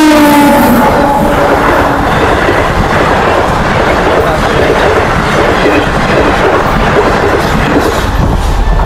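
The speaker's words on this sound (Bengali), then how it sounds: "ওই দেখুন ট্রেন ট্রেন দেখুন চলে এসেছে এই পাশ থেকে।" A train rolls past near a mango orchard, with a loud, continuous rumble and rattle of wheels and carriages close by and a brief horn-like tone at the start, and no voices over it.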